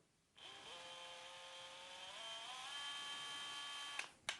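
A Bosch GSR 12V-35 FC cordless drill spins up alone with a rising motor whine, runs steadily for about four seconds, then stops with a couple of sharp clicks at the end.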